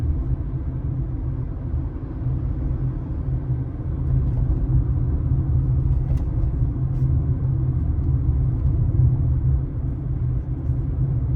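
A car drives along a driving-test route in third gear, giving a steady, loud low engine and road rumble that continues without a break.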